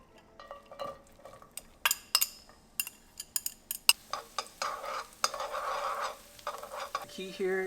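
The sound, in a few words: garlic and shallots cooking in hot oil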